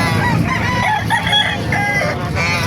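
Roosters and chickens at a live chicken market in Calumpit, Bulacan crow and cluck among steady crowd noise, the birds loud and close in a busy, continuous din.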